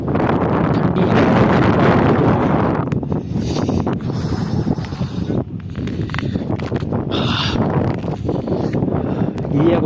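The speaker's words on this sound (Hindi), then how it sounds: "बहुत ठंडी हवा चलती है इतनी स्पीड में" Cold winter wind buffets the microphone at Babusar Top, a high mountain pass, roaring in steady loud gusts for the whole stretch, with faint rustling and thumps beneath and no clear talk.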